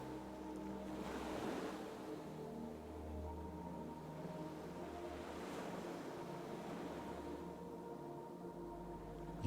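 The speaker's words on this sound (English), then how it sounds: "The distinct fizzle of each wave is now noticeably audible as the water softly rolls ashore." Ocean waves wash softly onto a fine sandy beach, a steady fizzing surf with gentle swells rising and falling under a constant low hum, with no voices.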